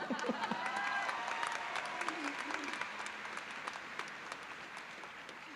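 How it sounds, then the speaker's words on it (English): Applause for the graduating class at the Meredith College 2026 commencement ceremony, fairly faint, many hands clapping steadily at a distance and tapering slightly, with voices and cheers mixed in early. "you can give them a round of applause"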